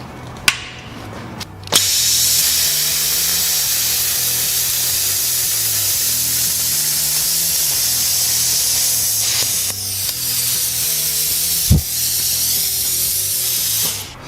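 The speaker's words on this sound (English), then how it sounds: "So our post flow just kicked off." Hypertherm plasma cutter blowing compressed air in post flow, a long steady hiss after a sharp start, with a few brief clicks and knocks as it runs.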